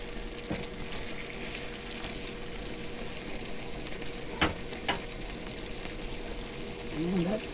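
Onions, peppers, pineapple and sausage frying on a camp stove while truck camping, giving a steady close sizzle with a few faint clinks of a utensil and a short scrape near the end.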